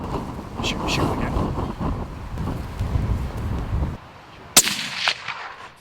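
A single sharp, loud rifle crack rings out at a stag during deer stalking at Dalness, Scotland, after a stretch of gusty wind noise with muffled voices, then fades into a brief echo.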